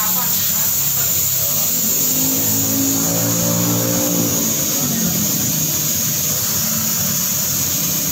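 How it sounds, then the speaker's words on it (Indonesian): A Honda Revo Absolute motorcycle engine runs in a Lombok repair shop, its cam chain just fixed. It drones loud and close, rising and falling in one smooth rev midway through. "Nah, dari suara mesin juga aman-aman aja."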